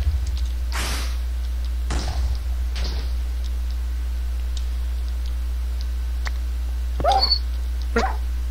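Dogs barking in the game Minecraft, a few sharp yelps spaced across the stretch and then a closer pair near the end, over a steady low hum with faint clicks.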